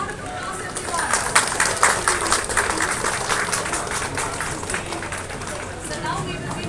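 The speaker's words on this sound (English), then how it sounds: "A big round of applause, everyone." A crowd applauds at the grand opening of KST's Chennai manufacturing facility, with dense, steady clapping that holds at an even level throughout and no voices on top.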